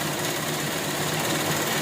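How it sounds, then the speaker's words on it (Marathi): A sewing machine runs in a steady, continuous buzz while double-stitching a towel, with a constant rapid mechanical whir at close range and no voices. "आता पूर्ण एकदा आपण डबल शिलाई देऊन घेऊया."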